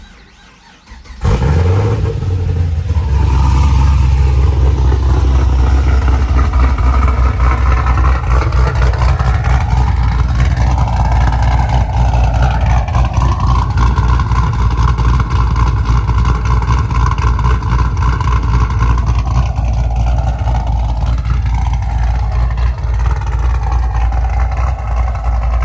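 The engine of a 2010 fifth-generation Chevrolet Camaro SS fires up and idles loud and deep, then revs up and down in rising and falling swells of heavy rumble, close and steady throughout with no talking.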